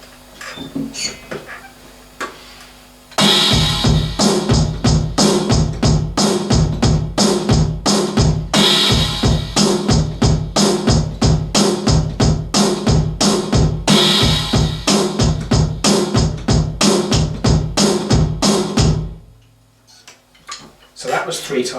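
A drum kit plays a song's beat at a slowed tempo, a steady pattern of punchy kick and snare hits under busy hi-hat ticks, close and loud for about sixteen seconds before stopping.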